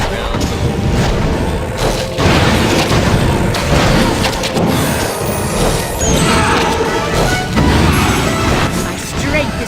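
Power attacks in Mighty Quest for Epic Loot fire in quick succession, loud booms and crashing thuds repeating across the game's soundscape while a voice talks over the action.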